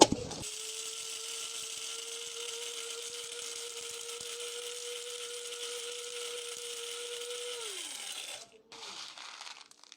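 Electric grinder whirring steadily at a constant high pitch while grinding spices, close and loud, then the motor winds down and stops before a brief restart.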